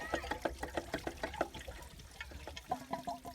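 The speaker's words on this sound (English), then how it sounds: "it's dumping a whole bunch of coolant down" Coolant pours out of a 3800 Series II V6 engine in a 2002 Pontiac Grand Prix during a belt tensioner replacement, splashing and gurgling in uneven, quick pulses at close range, fairly quiet.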